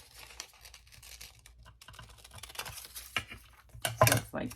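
Paper is cut during a craft project, with small snips and crisp rustles close by against a quiet room, ending in a louder flurry of paper handling.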